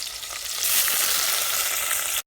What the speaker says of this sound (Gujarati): હવે એમાં નાખી દેવાનું છે જીરું અને નાખવાની છે ડુંગળી